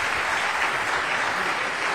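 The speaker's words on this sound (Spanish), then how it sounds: "un aplauso para nuestros panelistas" Steady, dense applause from a seminar audience honoring the panelists at a reinforced-concrete engineering event, close and continuous for the whole stretch with no pauses.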